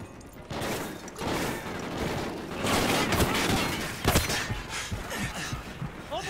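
Continuous dense gunfire in a Call of Duty: Ghosts campaign battle, a busy wash of rapid overlapping shots and mechanical clatter with a sharper burst midway, loud and sustained throughout.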